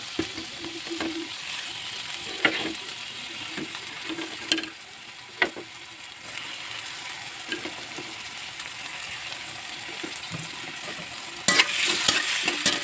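Tomatoes fry and sizzle in a pan while a utensil stirs them, giving a steady quiet sizzle broken by scraping clacks against the pan, close up and without talk.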